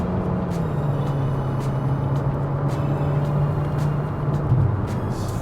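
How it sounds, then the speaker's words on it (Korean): A Torres T7 SUV accelerates at full throttle from about 80 to 120 km/h. From inside the cabin the engine gives a steady, droning hum, with road and wind rumble underneath, sustained evenly with no voices. "이제 추월 가속이라고 부르는 80에서 한 120까지 풀악셀을 이렇게 밟아보면"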